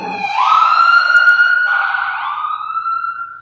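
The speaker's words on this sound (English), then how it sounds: "Ambulance?" A loud wailing siren sweeps up and holds a long rising tone, close by and alone.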